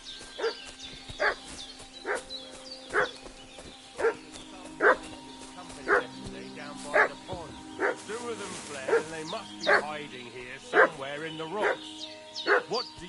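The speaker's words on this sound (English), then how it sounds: "What's that dog making such a fuss about?" A dog in the medieval video game Kingdom Come 2 barks repeatedly in a steady rhythm, about one bark a second, with game music and characters talking underneath.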